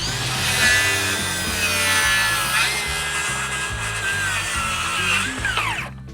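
A cordless circular saw, DeWALT DCS590 or Milwaukee 2834, cuts through wood with a steady, loud whine over a pulsing low motor drone, continuous for about six seconds before trailing off as the blade spins down.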